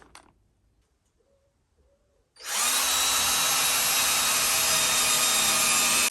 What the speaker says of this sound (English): I'm just going to drill and screw through there